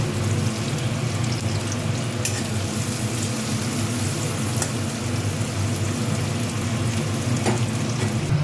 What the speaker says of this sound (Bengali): চিংড়ি মাছটা আমি ভাজতে দিয়ে দিয়েছি।